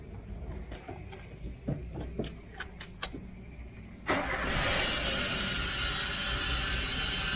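A Toyota Avanza engine turns over with a few clicks and cranks before catching, then settles into a steady, rough-sounding running drone heard up close.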